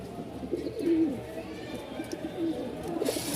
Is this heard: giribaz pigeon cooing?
yes